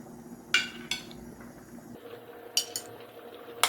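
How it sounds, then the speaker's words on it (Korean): A spoon scoops soft tofu into a boiling zucchini stew, with sharp metal clinks against the pot at intervals over a low, quiet bubbling simmer. "이제 뚜껑을 열고 순두부를 넣어 보겠습니다"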